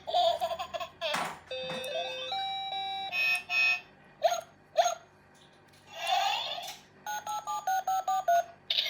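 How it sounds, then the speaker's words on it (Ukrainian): Bright electronic beeps and short melodic chimes from the buttons of a musical toy telephone for toddlers, pressed in quick succession with pauses between, some tones held, ending in a rapid run of short beeps. "Музичні іграшки для малюків. Дуже міцний, класний, якісний телефон."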